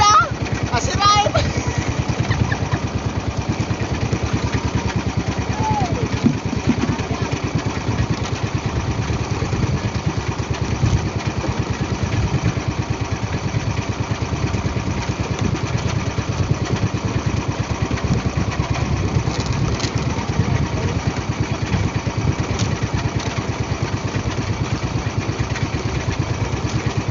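A broken-down boat engine chugs and rumbles continuously up close at sea, with clattering mechanical noise and people talking over it throughout.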